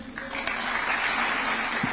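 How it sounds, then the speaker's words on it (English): Applause for Team Kenya captain Julius Yego at a presidential flag-off ceremony for the Tokyo team, a steady wash of many hands clapping throughout, moderately loud and without talk. "Another round of applause for Team Captain Julius Yego."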